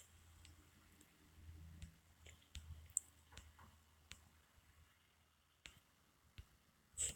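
Faint, sparse clicks of typing on a keyboard in a quiet room: irregular single taps with a few louder keystrokes near the end.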